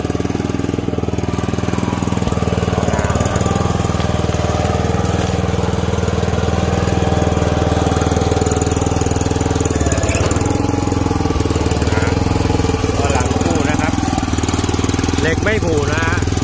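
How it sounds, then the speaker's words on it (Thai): Small four-wheel dump truck with a 5 hp four-stroke gasoline engine running steadily: a loud, continuous rattling chug up close, with someone talking over it throughout. "ลองสตาร์ทดูอีกทีสตาร์ทติดง่ายสตาร์ทติดง่ายมากเลย"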